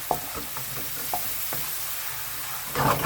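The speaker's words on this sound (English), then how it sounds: "We're just going to stir that, make sure the turmeric's nice" Curry with turmeric and sultanas stirred in hot oil, a soft continuous sizzle broken by several spoon taps and scrapes, with a louder stirring burst near the end.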